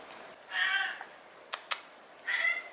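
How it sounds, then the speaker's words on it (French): A cat meows twice, close and fairly soft, with a pause between the calls and a couple of brief clicks in the gap. "Je comprends pas ce que tu veux à me miauler dessus."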